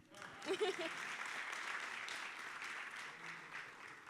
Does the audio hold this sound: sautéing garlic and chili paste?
no